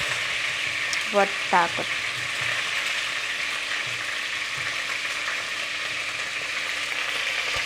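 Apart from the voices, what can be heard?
chicken frying in a pan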